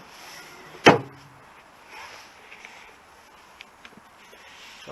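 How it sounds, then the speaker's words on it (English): A single sharp, loud door clunk from the back door of a car with a supercharged 3.0-litre V6, packed with tools, rings out near the start, then fades into quiet ambience with a few faint small clicks. "let's just open the back door now and just show you the back."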